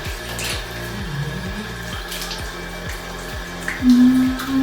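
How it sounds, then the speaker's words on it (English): Tap water running into a sink while a face is rinsed, a steady close splash with soft splashing pulses of hands scooping water, and a low hum beneath it. "So let's wash it off now."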